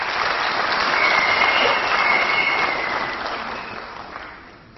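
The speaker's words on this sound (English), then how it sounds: "Let's give him a big round of applause" Audience applause at an academic honoring ceremony, a steady wash of many hands clapping that swells, holds for a few seconds, then gradually fades out.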